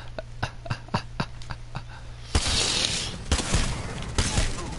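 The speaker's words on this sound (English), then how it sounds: "Miniguns always win, bro, when they're on target" A video game minigun opens up after a few sharp, evenly spaced single shots, then roars into a loud continuous spinning stream of fire close at hand.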